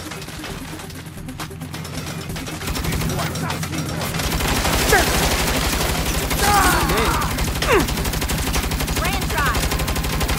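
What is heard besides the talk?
turret gunfire in video game Saints Row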